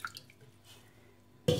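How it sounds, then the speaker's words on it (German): Water is poured into a saucepan for a marinade, a sudden broad splashing rush that starts near the end and runs loud and close after a quiet stretch. "Hier rein kommt 300 Milliliter Wasser"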